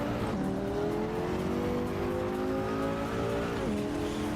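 Race car engine in the video game Assetto Corsa Evo, a loud continuous whine that climbs and then drops on overrun, with other cars droning around it and a brief tire squeal.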